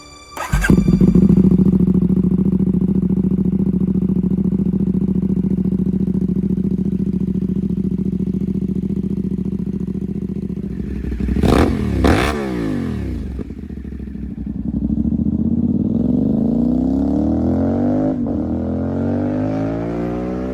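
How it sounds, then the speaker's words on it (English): A 2026 CFMOTO 450SS sport motorcycle with an aftermarket exhaust idles with a deep, throaty burble, then sharp revs blip twice and the engine climbs and settles again, loud and close. "Let's hear how the 450SS really sounds with this aftermarket exhaust."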